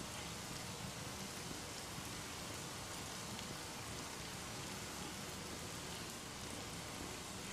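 Steady rain falls in the video game The Medium, a dense, even hiss that holds at the same level for the whole stretch with no talk over it.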